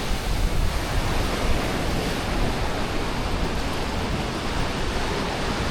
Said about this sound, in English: As far as blocking the wind noise.